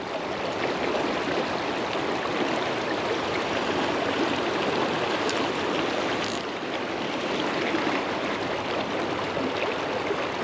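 A river in Canada flows steadily, a loud, constant broadband rush of water that stays unchanged throughout, with no voices.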